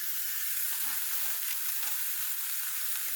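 Two flattened hamburger patties frying for a copycat Burger King burger, an even, close sizzle with faint spattering and a couple of light taps, no voices.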